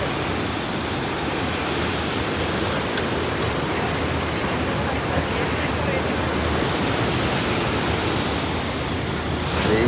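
A mountain stream in North Sikkim rushes past in a constant, loud, broadband roar of churning water that stays steady throughout, with no voices heard.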